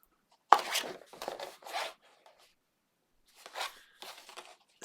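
Craft paper for a Halloween folio is cut in several short, crisp rasping strokes, heard as a quick burst of snips, a pause, then a few more, close and alone in a quiet room.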